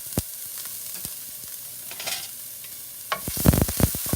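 Garlic and ginger sizzle in hot oil in a pan, a steady crackling fry punctuated by sharp utensil clicks and scrapes that grow louder and busier toward the end.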